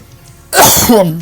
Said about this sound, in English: I think I want to sneeze.